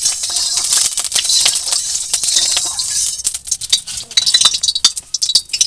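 Small fish fry in hot oil in a heated wok with a loud, steady hiss and crackle, broken by scattered clinks of a utensil against the pan.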